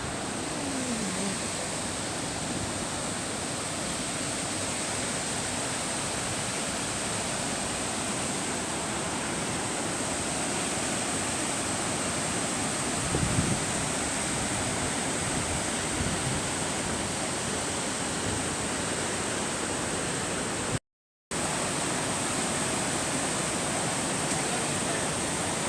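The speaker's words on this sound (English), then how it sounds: "With its cascade, the waterfall lends an air of enchantment" A waterfall cascading along the Sandrif river near a coastal lodge in the Eastern Cape, producing a steady, broad rushing roar that holds constant for the whole stretch apart from one brief dropout.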